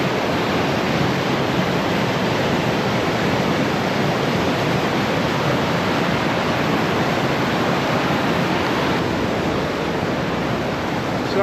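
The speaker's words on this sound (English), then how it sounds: "That's a lot of water." River water rushing loud and close along the Lairig Ghru mountain pass, a dense steady roar that stays constant with no voices.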